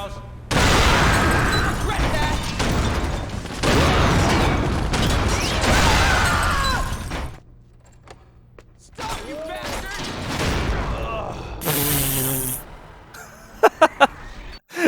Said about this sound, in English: It even has a lot of nice explosion effects and particle effects. And trust me, everything explodes in this game.